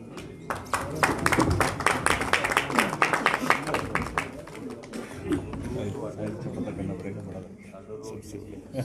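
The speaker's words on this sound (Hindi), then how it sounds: "जरा एक बार तालियां जोर से" A crowd claps at a Bharatiya Janata Party political welcome event, with strong, dense applause for several seconds that gradually thins while talk continues underneath.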